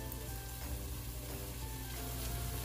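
Spice paste with garlic paste and tehari masala sizzling and frying steadily in a pan for Old Dhaka tehari, a continuous close hiss with a faint crackle throughout, no voices.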